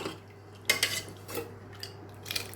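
Lid lifted off a pot of cooked horse gram curry, a few bright metallic clinks and clatters in quick succession, close and fairly quiet against a soft background hum.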